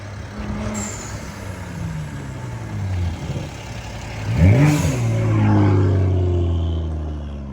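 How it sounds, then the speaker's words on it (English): A BMW M240i fitted with an aftermarket air intake revs up, its engine note climbing sharply midway, then holding a loud, deep induction roar close by. "I can't describe the induction sound this engine has with this air intake."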